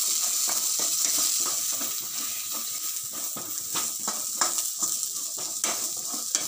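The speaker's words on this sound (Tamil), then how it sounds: "இந்த எடுத்து வச்சிருக்கிற 6 தக்காளிக்கு அளவு மசாலா, கொஞ்சம் கசகசா போட்டு வதக்கிக்கலாம்" Masala and poppy seeds sauté in a pan for tomato kootu, with steady sizzling and frequent scraping stirs of a spoon against the pan, close and continuous with no talking.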